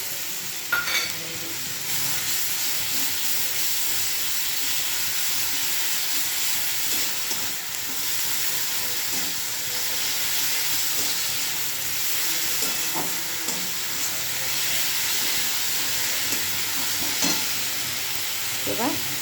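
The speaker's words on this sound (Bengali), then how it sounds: "এবার আমি হচ্ছে আদা রসুন পেস্ট দিয়ে দিলাম।" Ginger-garlic paste frying in a pan for a pointed gourd and potato curry gives a steady, close, bright sizzle that runs throughout, with occasional soft stirring scrapes.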